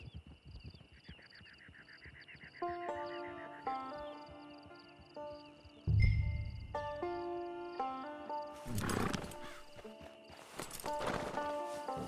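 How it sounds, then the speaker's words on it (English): A horse in the video game Red Dead Redemption 2 clip-clops and whinnies, its hooves and calls sounding over game music tones, with louder bursts of movement near the end. "Get your horse."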